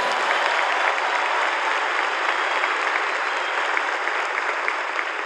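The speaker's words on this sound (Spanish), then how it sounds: "Un aplauso fuerte para todos ustedes." A large crowd claps loudly and continuously, a dense, even wash of applause that carries on throughout.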